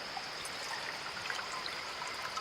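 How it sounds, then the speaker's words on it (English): Water, 12 ounces measured from a Nalgene bottle, pours into a camp kettle as a steady, soft trickling stream, continuous and fairly faint with no talk over it. "I'm going to pour some water. This is 12 ounces according to the side of the Nalgene."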